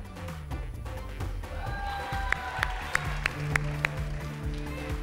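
A studio audience on a Pakistani game show gives a modest round of clapping, sparse sharp claps rising over a busy hall with background music and crowd murmur.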